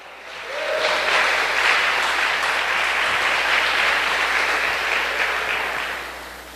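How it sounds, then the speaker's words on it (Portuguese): A church congregation breaks into sustained applause during a missions service, swelling quickly, holding steady for several seconds, then tapering slightly at the end. "Pode aplaudir ao Senhor."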